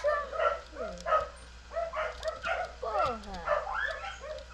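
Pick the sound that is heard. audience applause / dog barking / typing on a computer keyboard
dog barking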